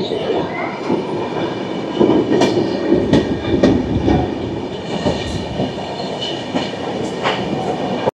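Duronto Express 12245 from Howrah to SMVT Bengaluru passing through Cuttack station without stopping, heard from on board: a steady, loud rumble of carriages with repeated wheel clicks and rattles running the whole way.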